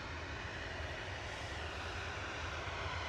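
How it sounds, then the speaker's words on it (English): An Aer Lingus ATR 72-600 turboprop arrives at Manchester Airport, a steady broad engine roar with a low rumble holding at constant moderate level throughout, no voices over it. "Next arrival is going to be Aer Lingus ATR 72-600. There it is."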